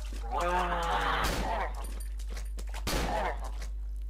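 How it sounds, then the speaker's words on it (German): Gunfire in the horror video game Cry of Fear: two sharp shots about a second and a half apart, the first cutting into a man's speech and the second standing alone against quiet background hum. "Ich schieße ab jetzt immer auf den Kopf."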